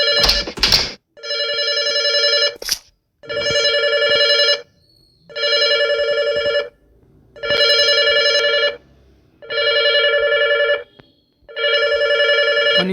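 A telephone rings repeatedly, loud and near, its bright trilling bell sounding in six steady bursts of about a second and a half, with short silent gaps between them and no one speaking.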